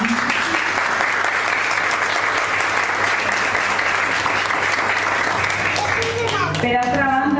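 A room of people at a Sant Jordi event in a residence and day centre applauding steadily and loudly throughout, with a voice speaking briefly near the end.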